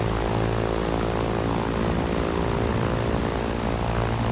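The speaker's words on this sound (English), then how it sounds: "You're in a plane again, so this can't be good." A propeller airplane drones steadily in the video game Far Cry 4, a loud, constant engine hum with a dense buzzing tone that holds without pause and has no speech over it.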